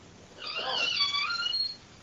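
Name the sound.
cat meowing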